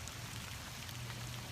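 Rain falling outdoors near a dam's emergency spillway, a dense, steady wash of drops and hiss filling the whole stretch without a break.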